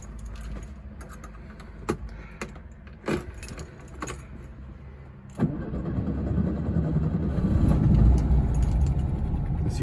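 A 1982 Volkswagen Gol with stock quiet exhaust: keys jangle, the starter cranks, and the engine catches and settles into a steady idle dominated by intake and fan noise, close and growing fuller over several seconds.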